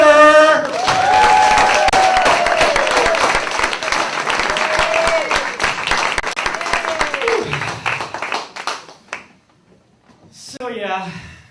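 Audience applause and cheering for a stand-up comedian at a playhouse, loud clapping with whoops and shouts that swell and then fade out, followed by a voice speaking near the end.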